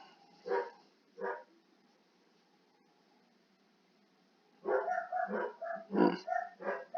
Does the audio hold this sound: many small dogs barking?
yes